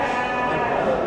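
Sheep bleat continuously at a busy Konya livestock market. Overlapping animal cries fill the short stretch against dense crowd background noise.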